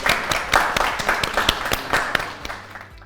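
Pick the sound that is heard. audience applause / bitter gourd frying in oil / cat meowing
audience applause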